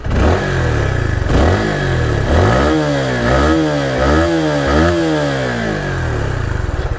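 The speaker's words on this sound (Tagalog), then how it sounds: "So I can say na exhaust yung naririnig ko." A Honda Supra GTR 150 motorcycle on its stock exhaust revs repeatedly, its engine note climbing and dropping in several loud, close blips that rise to a rasping peak before settling back.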